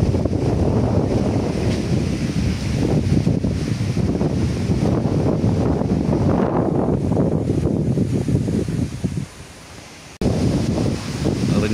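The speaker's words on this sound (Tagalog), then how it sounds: "Narinig na po yung tunog ng hangin. Malakas." Strong typhoon wind roars and buffets outdoors near a chicken coop, a dense continuous rush with gusting swells, dropping briefly near the end before surging back; no talking.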